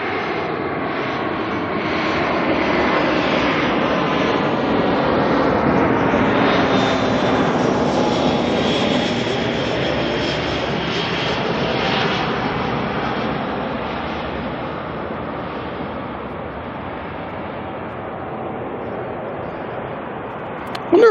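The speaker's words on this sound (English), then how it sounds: "Jetstar 240 coming on in next" A Jetstar airliner, flight 240, lands at Auckland at night. Its jet roar swells to a loud peak and slowly fades, with a whining engine tone sweeping through.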